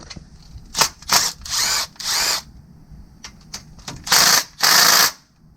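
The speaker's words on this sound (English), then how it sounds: "Now we're going to use this Milwaukee with a 13 millimeter and with 2 extensions on it." A Milwaukee power tool fitted with a 13 mm socket and two extensions removes bolts during timing chain work on a 2014 Acadia 3.6L engine, with several close, loud whirring bursts of varying length separated by short pauses.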